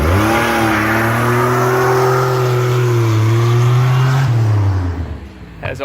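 A supercharged 3800 Fiero accelerating hard, a loud close engine roar rising steadily in pitch through the revs before cutting off sharply near the end.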